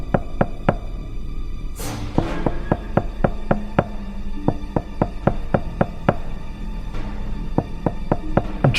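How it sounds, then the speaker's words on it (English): Steady knocking in a Doctor Who audio drama: a long run of sharp, evenly spaced raps close by, with brief whooshing swells breaking in twice and no voices. "How is someone knocking?"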